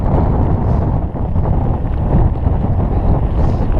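Strong wind roars steadily across the microphone while cycling through woods near Seraing, a loud continuous low buffeting with no clear breaks.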